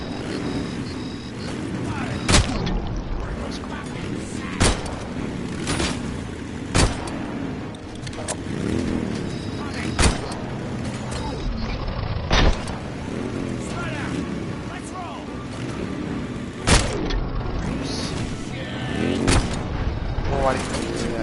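Pistol gunshots in the video game Robocop: Rogue City, sharp single shots spaced every two to three seconds over game music and engine-like noise, with a voice talking between them.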